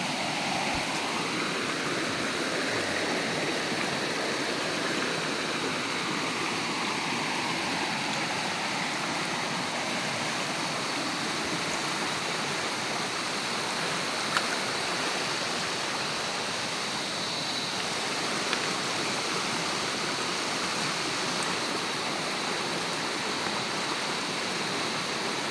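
Steady, dense rush of river water running fairly high, a continuous broadband roar that stays even throughout with no talking over it.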